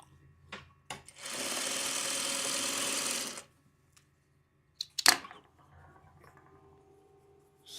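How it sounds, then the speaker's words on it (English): A sewing machine runs steadily for about two seconds, joining fabric pieces with a close, continuous whirring hum. Brief clicks and handling noises come before and after the run. "let me just sew it on and I'll figure the pressing"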